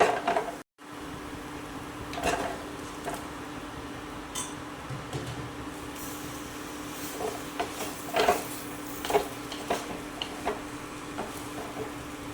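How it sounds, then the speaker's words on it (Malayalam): Chicken stirred in hot oil with pepper and fennel powder, a utensil clinking and scraping against the pot now and then over a faint steady hum, quiet and without voices. "ഇനി നന്നായിട്ട് ആ എണ്ണയിലൊന്ന് വഴറ്റിയെടുക്കണം"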